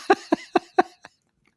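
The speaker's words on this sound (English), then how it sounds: "He's having a cough attack over there." A burst of four sharp, evenly spaced coughs followed by a weaker fifth, close and loud, then quiet.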